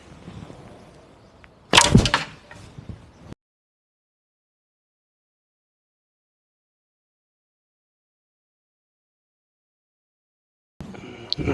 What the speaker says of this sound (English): First I shoot an arrow without the sleeve and then an arrow with a sleeve.